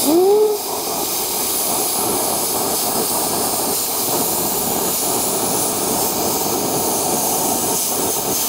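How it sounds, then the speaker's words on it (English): A Lincoln Tomahawk 375 plasma cutter cuts through metal along a clamped straight edge, giving a loud, steady hissing roar that continues unbroken after a brief rising whine at the start. "going to use my Lincoln Tomahawk 375 plasma cutter for this"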